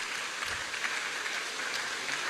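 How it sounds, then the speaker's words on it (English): A hall audience gives a round of applause for Human Nutrition and Dietetics students at a college healthcare programme, a steady wash of many hands clapping, distant and even, with no clear individual claps. "Okay, let's give them a round of applause"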